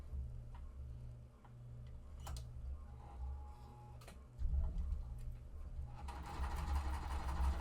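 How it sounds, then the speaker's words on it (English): A sewing machine chain-stitches small quilt fabric triangles, its motor humming with a steady mechanical ticking, then running louder and faster over the last few seconds, close and without talk. "I am just going to chain stitch them"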